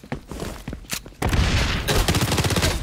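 Shotgun blasts and gunfire in the XDefiant shooter: scattered sharp shots at first, then a loud dense burst of continuous fire with an explosive boom.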